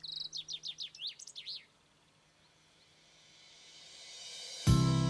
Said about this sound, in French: les arbres autant que les oiseaux diffusent leur mélodie